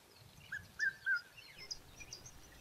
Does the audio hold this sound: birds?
yes